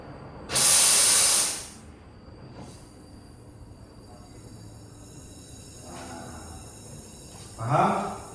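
An oxy-acetylene welding torch gives a loud, brief hissing rush of gas and flame, then goes quiet behind faint background noise. A shorter, softer hiss follows near the end, and a voice speaks briefly.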